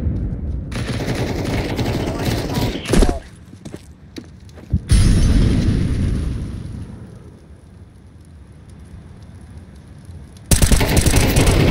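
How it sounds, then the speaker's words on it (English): A flashbang grenade goes off in Counter-Strike 2 gameplay: loud bursts and crackling detonations, then a sustained high ringing whine that fades before another loud burst near the end. "Flashbang."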